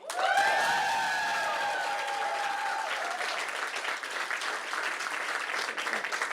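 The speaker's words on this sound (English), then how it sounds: "That's quite a round of applause there." Crowd applause at an election night speech, a full, sustained burst of clapping and cheering with a few voices rising over it at the start, then settling into steady clapping.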